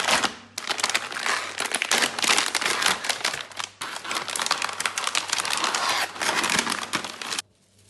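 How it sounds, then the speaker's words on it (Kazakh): A plastic package of funchoza glass noodles is torn open and handled, giving a loud, close, continuous crinkling and crackling of wrapper for several seconds before it stops abruptly. "Лапшаны ашып дайындай берейік."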